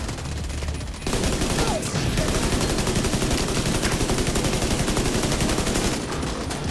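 An assault rifle in The Division 2 fires a long, rapid automatic burst that starts abruptly and hammers on for about five seconds, loud and close, with no talking.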